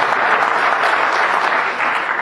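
Applause from a concert audience at a ghazal recital, a steady dense clapping that fills the whole short stretch, loud and close without other sounds on top.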